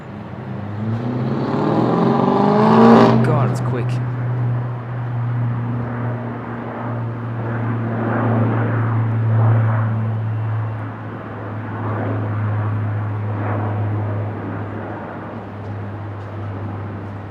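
A French Airbus A400M turboprop departs Brisbane International, a loud, steady propeller drone with a low pulsing hum that swells early and holds strong throughout, no voices over it.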